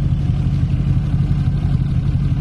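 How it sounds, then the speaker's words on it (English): A loud, steady exhaust rumble from a supercharged V8 Range Rover L322 with an aftermarket exhaust drones deep and close throughout, a continuous throaty burble with no pauses. "you probably can't hear me now because of the exhaust system"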